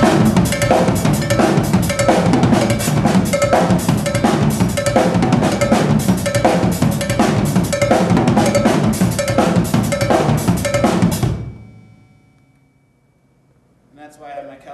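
Rapid cowbell hits ring out over pounding drums in a fast, busy pattern, then stop abruptly, leaving near silence with a faint sound at the end.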